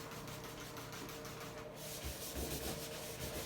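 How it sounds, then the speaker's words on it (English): A cloth wiping down a flat surface to clean a monotub liner, steady rubbing and scrubbing strokes close to the mic, continuous for a few seconds with no talking. "The reason I'm wiping this down, we're doing a monotub"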